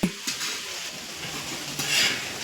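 Cumin and mustard seeds spit and crackle in hot oil during tempering in a home kitchen, a steady bright sizzle with a few stirring clinks, swelling louder near the end.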